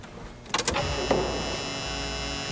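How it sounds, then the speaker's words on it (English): The fuel pump on a Dakota engine with PSI conversion wiring primes as the key turns to on: a click and brief mechanical clatter, then a steady electric whir holding under quiet surroundings. "Yeah, I hear the fuel pump going"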